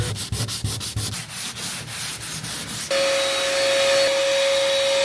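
Rhythmic back-and-forth rasping of 220 grit sandpaper on a wooden Whitehall rowboat, several quick strokes, then a steady whirring machine hum takes over with a high tone.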